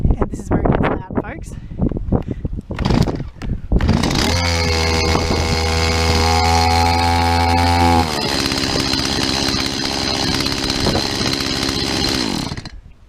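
A chainsaw being started with the choke in the warm-start position: a few sharp pull-start bursts, then the engine catches and runs loudly at high revs before settling to a slightly lower steady drone, close to the microphone.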